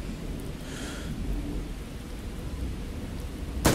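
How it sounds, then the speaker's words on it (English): Steady rain hisses through a thunderstorm in the survival video game Miscreated, with a soft low rumble of thunder underneath and a sharp, sudden crack near the end. "I love just looking up into the rain, you know, and imagining the raindrops falling on my face"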